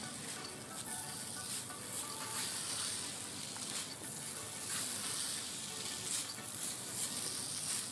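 Rice stirred in a pan with caramelised sugar gives a steady, close sizzling hiss with soft scraping throughout, no voices.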